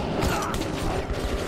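Weapon reload in the shooter Metro 2033 Redux, a short burst of close mechanical clicks and metallic ratcheting over a dense background of game noise.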